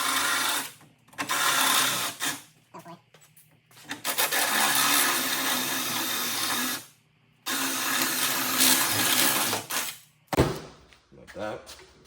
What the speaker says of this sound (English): all you do is you just take like, you know, a step bit or whatever, and just kind of ram out the rivets that are on here